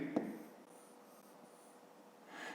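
A pen marks the smallest squares on a fifth-grade maths exercise sheet, a quiet scratch of writing near the start and again near the end, close and faint with no talk.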